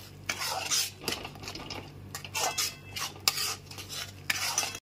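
A spoon stirs half a teaspoon of salt and slit green chillies into spice masala in a pan for pomfret fish curry, giving close, repeated scraping strokes against the pan with no talking.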